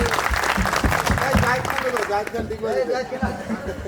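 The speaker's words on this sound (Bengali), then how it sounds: "সবাই ইয়ামিনের জন্য তালি দেই প্লিজ" A crowd claps at an outdoor picnic, a dense burst of applause that fades after a couple of seconds into chatter and voices nearby.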